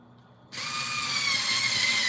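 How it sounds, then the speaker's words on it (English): A pink cordless drill starts abruptly after a brief quiet moment and then whirs steadily into a piece of wood, a loud, close, continuous whine with no talking. "I drill onto a piece of wood that kind of absorbs"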